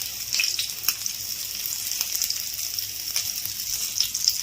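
Prawns frying in a pan over medium heat for a home-made barbecue-style prawn fry, giving a steady close sizzle with soft crackles and a few small pops, no voices.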